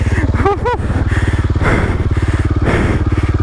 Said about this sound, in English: Bike's still running.